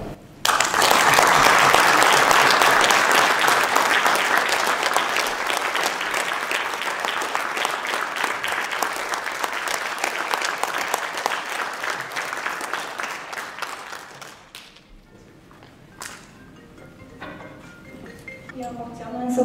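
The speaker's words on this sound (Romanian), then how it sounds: "să-i oferim în dar invitate noastre un robot de aplauze" An audience at a book launch in a library applauds for about fourteen seconds, dense clapping that thins out and stops, followed by quieter room sounds and faint voices.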